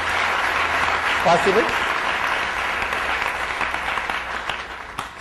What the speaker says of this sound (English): Let's give a good clap for their arrangement,